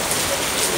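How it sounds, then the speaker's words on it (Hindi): Steady rain falling outdoors, a dense, even hiss of drops on surfaces that holds unchanged for the whole short stretch, with no voices over it. "बारिश हो रही है आज तो"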